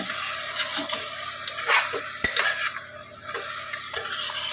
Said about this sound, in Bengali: দিয়ে এবার এটাকে আবার নাড়াচাড়া করে নেব।